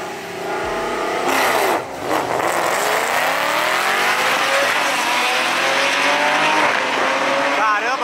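Onboard sound of a drag race car on big slick tires running a 402-metre quarter-mile strip, a loud, near engine roaring and rising steadily through the gears after a brief launch burst, with someone talking over it.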